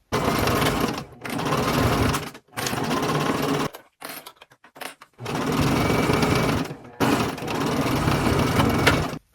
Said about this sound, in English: now we're just going to sew along this U shape here, and this will attach all 4 of those panels together